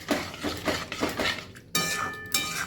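A utensil scrapes and clinks steadily against a pan while yogurt and spices for Rajasthani gatte ki sabzi are stirred. The strokes repeat in a quick, even rhythm, close up and moderately loud.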